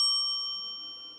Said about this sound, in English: I didn't ring the morning bell